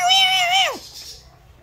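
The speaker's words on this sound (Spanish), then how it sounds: "ahí anda el manada de gatos" A single drawn-out cat meow, close and clear, rising then sliding down before trailing off into quiet background noise.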